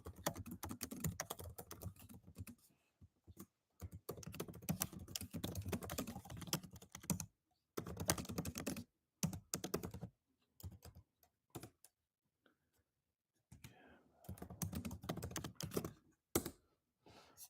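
Someone types on a computer keyboard at close range, quick clattering key presses in uneven bursts separated by pauses and stretches of silence, with no talking.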